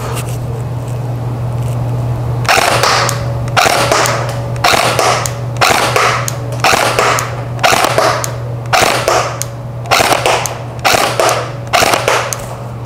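A KWA T10 RM4 airsoft AEG fires ten shots at a target 50 feet away, each a sharp mechanical crack with a brief motor whir, spaced about a second apart over a steady low hum.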